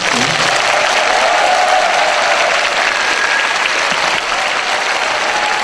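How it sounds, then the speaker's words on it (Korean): A large audience at a speech concert at Kyung Hee University claps loudly and continuously, a dense sustained wave of applause that holds steady for several seconds. "큰 박수 부탁드립니다"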